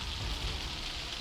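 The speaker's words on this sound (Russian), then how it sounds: "Кстати, на улице дождь пошел, он слышно как" Rain mixed with sleet drums on a fishing tent during a winter fishing trip, a steady dense patter with no voices.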